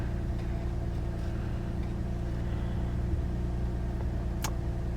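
A Lexus IS250's engine idles as a steady low rumble inside the parked car, even and unchanging, with a single brief click near the end.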